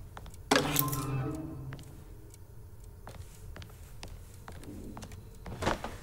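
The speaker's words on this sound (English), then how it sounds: "I'm touching your typewriter!" Typewriter in the Alone in the Dark game, heard as a loud clattering strike followed by scattered faint clicks and taps, then another sharp hit near the end, with no speech.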